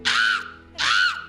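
Two loud, drawn-out caws made by a human voice imitating a crow on a talk show, each about half a second long, close up with a short pause between.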